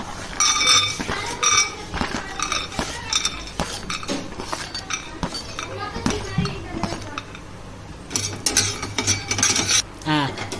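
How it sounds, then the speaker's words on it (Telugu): Peanuts roast in a pan on a stove, with repeated metallic clinks and scrapes of stirring in a rhythmic pattern while a person talks over them. "ఇప్పుడు స్టవ్ వెలిగించేసి పల్లీలు వేపుకుందాం."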